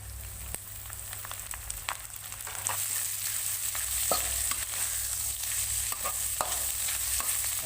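Apple snails stir-frying with garlic in a hot pan, a steady close sizzle with scraping stirs and occasional sharp clinks, growing louder midway as more snails go in.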